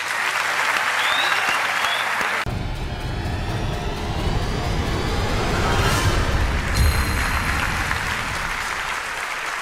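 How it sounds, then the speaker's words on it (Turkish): Audience applause on the Turkish talent show Yetenek Sizsiniz Türkiye, a loud sustained wash of clapping from a large crowd, with a voice over it and a brief cut partway through. "Alkışlarla uğurluyoruz"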